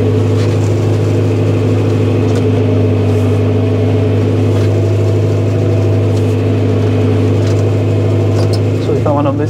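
An engine hums and idles steadily as a vehicle rolls slowly through a sugar beet harvest, a constant low drone close to the microphone with little change in pitch.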